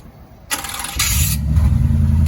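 A car's starter cranks briefly and the engine catches, settling into a loud steady idle with some rising revs, close by and with no talking.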